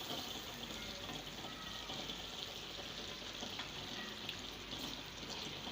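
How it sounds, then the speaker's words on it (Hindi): Water being poured into a pan of roasted masala for a chickpea and egg curry, a steady soft hiss and gentle splashing that runs evenly and fairly quietly throughout, with no talking. "तकरीबन आधा कप हमने इसमें पानी डाल दिया है।"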